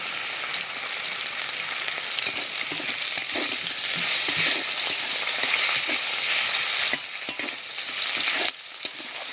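Potatoes and green chillies frying in a pan, a loud steady sizzle broken by scraping stirs and spatula clacks throughout, with no voices.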